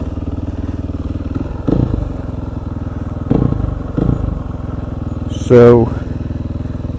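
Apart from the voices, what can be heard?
KTM 500 EXC supermoto motorcycle engine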